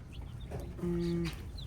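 Chickens, including Faverolles and Buff Brahmas, clucking nearby, with one longer drawn-out squawk in the middle over a low background rumble.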